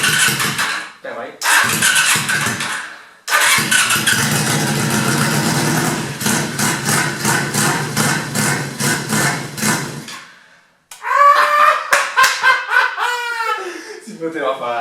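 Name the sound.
restored scrap motorcycle engine starting and running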